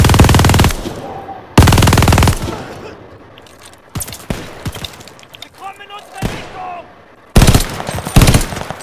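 Loud, close machine gun fire in Call of Duty: Vanguard comes in several long automatic bursts separated by quieter gaps, with a voice talking between the volleys.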